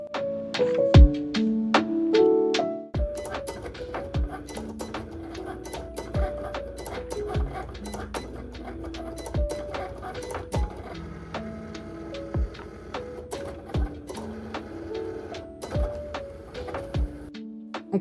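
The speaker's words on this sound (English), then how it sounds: "loaded the mat into the machine and started my cut on the vinyl setting" A vinyl cutting machine cutting vinyl on a mat, with motors whirring in short bursts, sharp clicks and ticks at irregular intervals, and a steady mechanical rhythm close by throughout.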